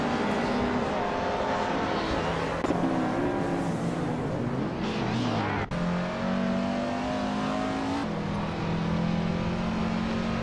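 A 1999 Citroën Xsara and other race cars roar around a track in a racing game, with engine pitch climbing and dropping through gear changes, loud and continuous, with other cars droning nearby.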